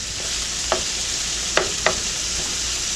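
Beef browns in a hot pan for a beef tips dish with mushroom and onion gravy, giving a steady close sizzle broken by three sharp scrapes or taps as the meat is stirred.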